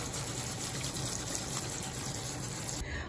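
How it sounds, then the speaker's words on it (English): Tap water running steadily over canned beans being rinsed in a kitchen, a continuous loud splashing gush with no talking. "now I'm just gonna go ahead and rinse them."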